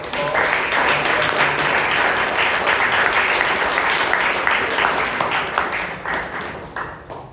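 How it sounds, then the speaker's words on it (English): Sustained applause from a large audience at a Toastmasters club meeting in Bangalore, a dense wash of clapping that holds steady for several seconds before thinning out at the end. "please give the new committee a big round of applause"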